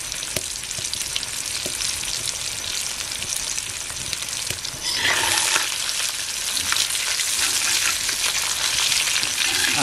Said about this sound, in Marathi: आता दुसरी बाजू चांगली परत शेकून घेऊ.